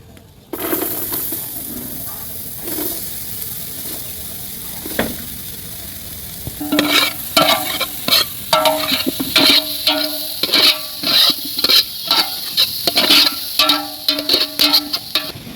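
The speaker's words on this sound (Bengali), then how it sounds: "এখন এই বাটারের মধ্যে আমরা পেঁয়াজ দিয়ে দেবো" Onions frying in hot butter in a metal bowl for a village-style egg Maggi masala, with a steady sizzle that gives way to loud, repeated scraping and clinking as they are stirred.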